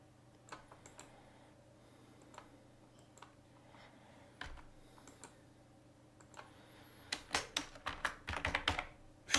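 Computer keyboard typing, sparse scattered keystrokes at first, then a fast dense burst of clicking near the end, close and clear with no talking.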